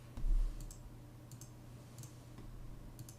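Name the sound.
typing on computer keyboard while building GUI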